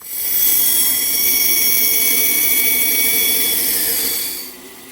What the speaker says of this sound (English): I'll go to the bandsaw.